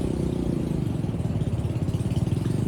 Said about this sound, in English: They have a cheap motorcycle, so they can't get up the hill.